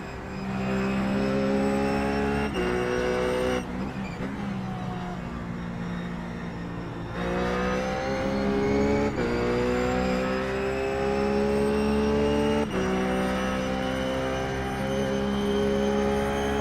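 A RUF GT race car engine in iRacing at Road America holds a loud, steady high-revving drone with harmonic tones, dipping briefly around gear changes and lifts before climbing again, with no voices.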